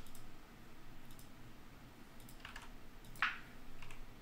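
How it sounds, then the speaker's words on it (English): Sparse keyboard typing done with the off hand, a few faint scattered clicks and taps over a low background hum, with no voice. "Typing with my offhand is not very easy at an angle."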